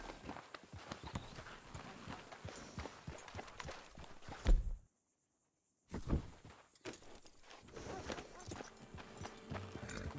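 Horse hooves clip-clop at a walk in the Western open-world game Red Dead Redemption 2, a steady, fairly quiet rhythm under ambient game sound that cuts out briefly to silence midway before resuming.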